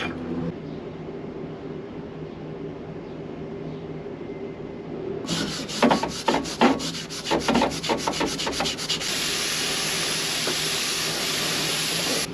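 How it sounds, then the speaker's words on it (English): An abrasive brush scrubs paint remover on a 1956 Chevy 210 Tri-Five, starting as a soft rubbing hiss and then turning into close, loud, rhythmic scratchy strokes that merge into a steady harsh scrubbing. "So we'll just brush it on right here."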